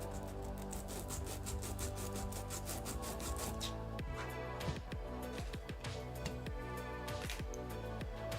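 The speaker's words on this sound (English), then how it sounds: "Hopefully maybe sanding it a bit kind of helps it" A part being sanded by hand to rough up its surface for gluing: close, steady rasping strokes, with a run of distinct back-and-forth rubs in the second half.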